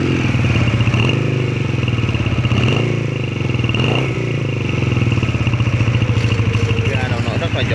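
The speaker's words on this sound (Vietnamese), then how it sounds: "anh thấy tiếng máy nổ nhiều lúc luôn" A Rebel 125cc motorcycle engine idles close by with a steady, rapid putter and faint rattling, the throttle blipped briefly midway.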